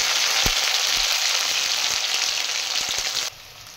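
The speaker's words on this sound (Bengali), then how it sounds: "আলু, নারকোল, কাজু, কিশমিশ এগুলো ভাজা হচ্ছে।" Potato, coconut, cashews and raisins fry in a pan with a steady, dense sizzle and a few soft stirring clicks; the frying continues close and loud before dropping quieter near the end.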